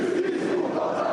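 A crowd marches calmly through the streets behind large portraits and French flags, its massed voices forming a steady, continuous roar of chanting with no single voice standing out.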